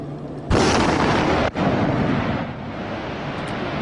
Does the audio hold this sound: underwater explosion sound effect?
yes